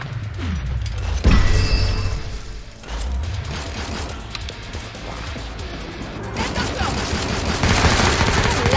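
Gunfire in the video game Killing Floor 2 during a hard multiplayer objective match in the Biotics Lab, with dense rapid shots and bursts running throughout amid loud game noise and booms.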